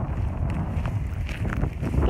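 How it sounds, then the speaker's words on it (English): Wind rushes across the microphone as a steady, low, blustery roar with occasional gusty swells, with no voices. "Getting a little windy out"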